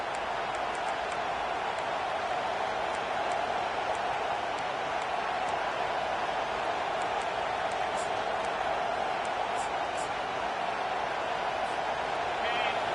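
A home crowd at a football game roars in a steady, unbroken wash of cheering noise, loud and continuous throughout.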